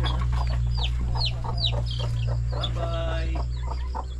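Chickens and chicks cluck and chirp in a steady flurry of short calls close by, with a constant low hum underneath and faint voices in the background.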